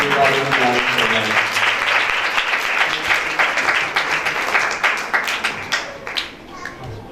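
An audience at a Catholic church Christmas program in Faisal Town, Lahore, breaks into loud, full applause that gradually thins into scattered claps as the clapping tapers off.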